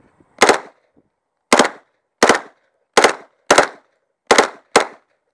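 A Heckler & Koch MP5/10 submachine gun fires seven sharp, separate single shots at uneven intervals. Each report is dry and snappy with a very short decay, heard up close against near silence.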